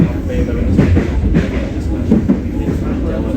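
KA Motis train pulling out of Jatinegara station: a steady low rumble of rolling rail wagons with faint clattering wheel beats, heard up close from on board for a few seconds.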